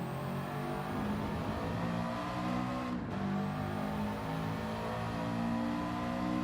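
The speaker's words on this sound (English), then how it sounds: "That seems to be a lot of revving out." A car engine revs hard and steadily in the Gran Turismo 7 racing game, a continuous rising and sustained engine whine with no talk.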